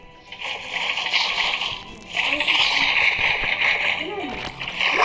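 Water splashes and sloshes steadily, a continuous bright wash of pouring with brief dips, while voices talk faintly underneath.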